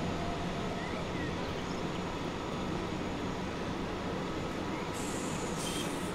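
Trains run in the Transport Fever 2 video game, giving a continuous dense rumble of rolling rail noise, steady and moderately loud throughout with no clear breaks.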